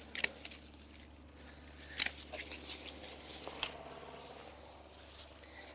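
Pruning shears snip zinnia stems in a garden with a few sharp, close clicks and rustles among quiet leaf handling.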